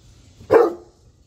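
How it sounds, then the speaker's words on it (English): A single sharp bark from a dog at home in the morning, close and loud, with quiet room sound before and after. "What are you barking at?"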